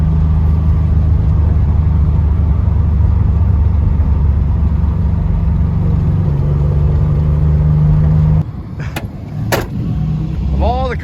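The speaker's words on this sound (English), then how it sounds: "I'm going to get myself out on the highway here and get the revs up a little bit." A Citroen SM's engine drones loudly and steadily at speed on the highway, a low sustained rumble that briefly drops away before resuming with a few sharp clunks near the end.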